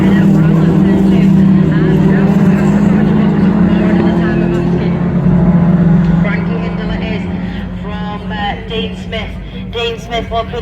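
Autograss stock hatch race cars racing around a dirt track, a loud droning roar of engines that holds steady and then fades, with a commentator talking over the noise.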